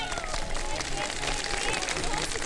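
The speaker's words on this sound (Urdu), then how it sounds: "تالیاں بجا دیں ان کے لیے." Studio audience applauding on a live Ramadan sehri TV transmission, a dense, steady wash of clapping that fills the whole stretch with voices talking over it.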